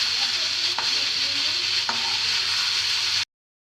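Potatoes frying with spices and ginger paste sizzle steadily and close up in a pan, with two sharp scraping strokes of a spatula stirring the mix before the sound cuts off abruptly.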